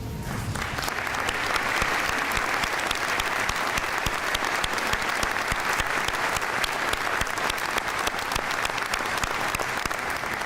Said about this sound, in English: ladies and gentlemen, join me in applauding these outstanding students